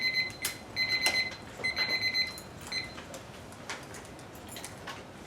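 A debate speech timer alarm going off during a competition round, a rapid series of bright electronic beeps in bursts followed by a few scattered ones, fairly close with no talk over it.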